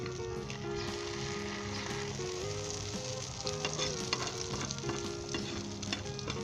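An egg omelette fries in a pan for a Pakistani breakfast after being flipped, a soft steady sizzle with light spatters and a faint background hum, close and fairly quiet with no speech.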